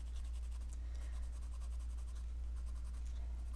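Colored pencil in a bright true green laid onto heavily textured paper: a steady, close, continuous dry scratching with rapid back-and-forth stroke rhythm, alone without talk.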